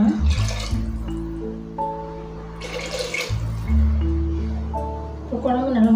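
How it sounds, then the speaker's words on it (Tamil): Water poured into a village-style fish curry with tamarind, a running splash and trickle into the pan amid background music and light clatter. "தேவையான அளவு தண்ணி சேர்த்துக்கலாம்."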